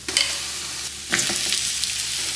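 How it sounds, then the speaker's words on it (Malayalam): Crushed ginger and garlic being stirred into sautéed onions for beef biryani, a loud continuous sizzle with scraping stirs, one stronger stroke about midway. "എല്ലാം കൂടെ ഒന്ന് ഇളക്കി കൊടുത്ത് ഇതിൻ്റെ പച്ചമണം മാറ്റിയെടുക്കാം"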